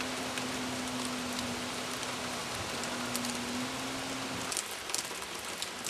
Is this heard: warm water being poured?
no